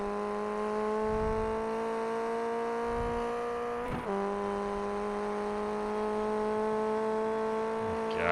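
A Formula Ford race car lapping Oran Park in a racing game, heard from on board: a steady, loud, buzzing engine drone with a brief gearshift dip midway, then holding pitch through the corner.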